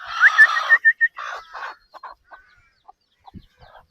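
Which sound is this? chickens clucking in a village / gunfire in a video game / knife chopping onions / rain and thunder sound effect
chickens clucking in a village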